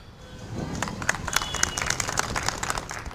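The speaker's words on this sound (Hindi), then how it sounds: "पहले ऑडियंस के लिए तालियां।" Audience clapping at an outdoor NDTV election carnival event in Pune. It builds from quiet into steady, moderately loud applause with sharp individual claps.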